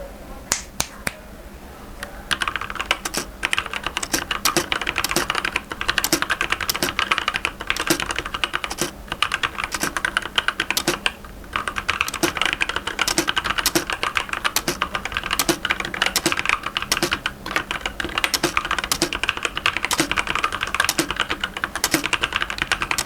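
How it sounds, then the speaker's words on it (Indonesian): Rapid, dense clicking of keys on a Cougar Combat RGB gaming keyboard, close and steady for over twenty seconds after a brief quiet start, with no talking over it. "Oke, jadi ini dia untuk tes Kogar Combat RGB."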